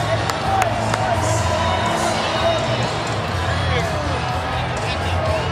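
At the end of a Gonzaga versus Duke college basketball game at T-Mobile Arena in Las Vegas, a large arena crowd roars and cheers steadily, with a commentator talking over it.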